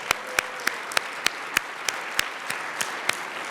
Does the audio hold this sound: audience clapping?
yes